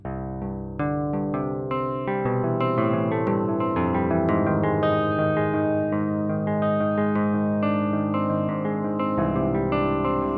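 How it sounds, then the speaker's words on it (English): Electric guitar with heavy distortion, washed in reverb and echoing delay, playing a sustained riff continuously and loudly. "it's going through the effects, the distortion, reverb, and the delay."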